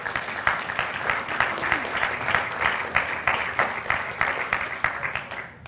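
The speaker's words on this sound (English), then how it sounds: "So give yourselves a round of applause." Sustained, loud applause from a large audience in an auditorium at a Jill Stein 2016 presidential campaign rally in Atlanta, dense clapping with rising swells, filling the whole stretch with no voices over it.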